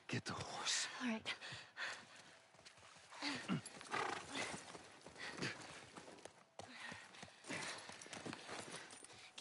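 Horse hooves clip-clopping in the video game The Last of Us Part 1, uneven thuds with a snort or whinny, close and fairly quiet under tense whispered and spoken dialogue.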